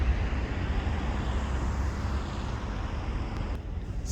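Airliner jet engine roar during a landing at an airport, a steady broad rumbling wash of noise heard from a distance with no talking.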